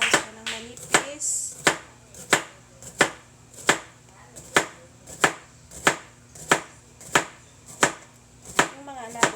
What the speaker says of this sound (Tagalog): Ayan, hiwain lang siya ng manipis.